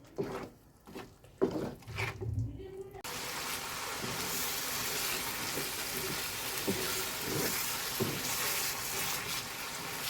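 Shutki (dried fish) bhorta frying on a stove, a few clatters and stirs giving way to a steady, loud sizzle and spitting splatter that holds evenly to the end.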